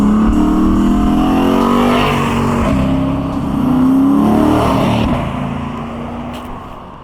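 A 2022 Lexus IS 500 and a 2008 Lexus IS F driving, engine note rising and falling through revs with a loud, close, sustained drone and a swelling pass near the middle.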